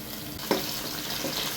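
Curry leaves sautéing in hot oil in a pan for a fish masala, a steady close sizzle and frying hiss with a brief stir or clatter partway through.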